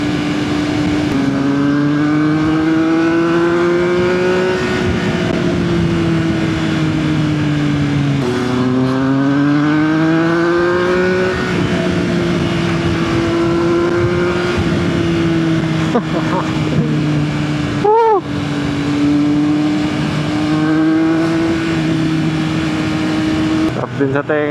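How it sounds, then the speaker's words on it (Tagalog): A three-cylinder car engine revs loudly and steadily while driving, its pitch rising and falling through gear changes, with a brief sharp dip near the end. "Sarap din sa tenga ng 3-cylinder."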